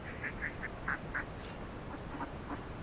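Ducklings quacking at a swimming pool, a run of soft, evenly spaced peeps and quacks nearby in a quiet outdoor setting, fading to fainter calls toward the end.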